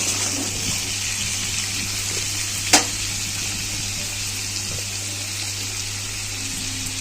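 Potatoes and onion frying in a pan with salt and turmeric, a continuous bright sizzle over a low steady hum, with one sharp clink partway through.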